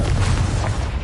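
A Confringo fire-blast spell in Hogwarts Legacy on PS5 erupts as a single loud, close, deep booming burst that fills the whole short moment, with no talk over it.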